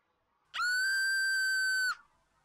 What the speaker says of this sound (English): About 30 meters away from where we're talking, someone screams.